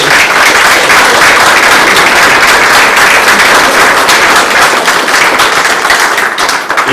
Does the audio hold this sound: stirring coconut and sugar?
no